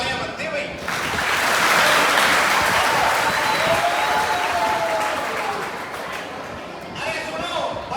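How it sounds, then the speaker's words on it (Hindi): An audience applauds a child who has come up on stage, the clapping swelling within the first second, holding loud and dense, then easing briefly before picking up again near the end; a voice is faintly heard under it. "इस हौसले के लिए तालियां बनती है भाई।"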